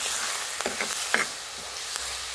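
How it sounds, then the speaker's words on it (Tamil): Coriander and curry leaves sauté in a pan for mutton leg soup, a continuous close sizzle with several short scraping stirs and crackles. "போட்டு நல்லா வதக்கி விட்டுக்கிட்டே இருக்கணும்"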